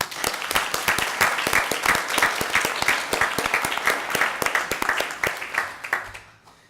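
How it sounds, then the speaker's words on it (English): A city council chamber audience gives a hearty round of applause, many hands clapping in a brisk, close, uneven rhythm before fading out at the end. "give him a hearty round of applause"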